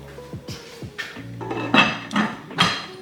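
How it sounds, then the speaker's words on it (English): Seafood gumbo being stirred in a pot with bay leaves added: several clinking scrapes of a utensil against the pot come in uneven strokes, growing louder toward the end, close and without talk. "Give everything a good little stir."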